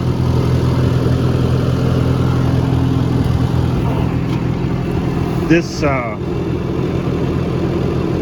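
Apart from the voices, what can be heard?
Farmall C tractor engine idling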